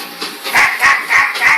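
A voice imitates a dog barking, giving four short rhythmic yips in quick succession, close and fairly loud.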